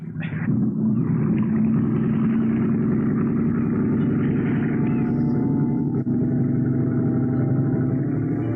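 A boat engine revving up on open water, a loud steady droning rumble that swells in the first second and then holds evenly at high power, with no voices over it.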